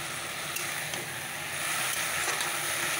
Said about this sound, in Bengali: ভাজাটা বসিয়ে দিলাম